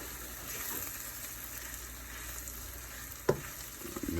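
Scrambled eggs sizzle and get stirred in a pan during a fridge-clearing breakfast scramble, a steady soft frying hiss with a single sharper scrape of the utensil near the end.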